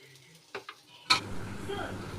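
Leftover food frying in corn oil with a pinch of salt: a brief clatter of a utensil against the pan, then a steady, moderately close sizzle for about a second.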